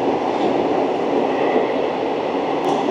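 A passenger train on the Sangaldan to Srinagar line runs with a loud, steady interior roar of wheels and carriage rumble, unbroken throughout.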